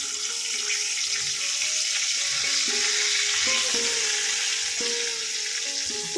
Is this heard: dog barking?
no